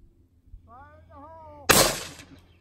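A rifle shot sets off a Tannerite explosive target outdoors, a single loud, sharp boom with a short fading rumble, preceded by a brief voice.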